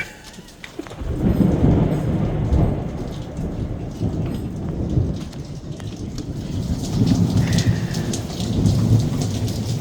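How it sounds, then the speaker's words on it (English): Heavy rain pours down steadily during a thunderstorm, with low rumbles of thunder rolling beneath the dense hiss of falling water, loud and close with no voices. "And here's the rain and the thunder."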